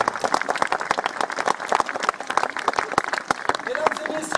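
A theatre audience breaks into lively applause, crisp separate claps blending into a continuous round at close range, with voices briefly audible under the clapping.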